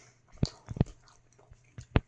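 Someone bites and chews a hot, cheesy microwaved chicken patty with sauce, giving three or four close, crisp bites spread over about two seconds, with quiet gaps between them.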